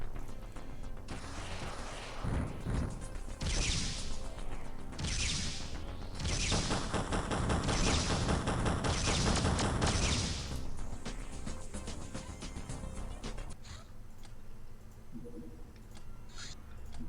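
Missiles and gunfire in the turn-based game XPiratez erupt as a long run of dense, booming explosions and rapid bursts lasting about twelve seconds. The noise then thins out to faint scattered sounds.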